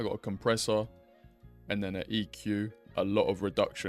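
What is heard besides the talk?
No everyday noises stand out.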